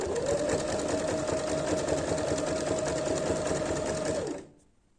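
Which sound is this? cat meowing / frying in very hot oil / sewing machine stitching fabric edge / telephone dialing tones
sewing machine stitching fabric edge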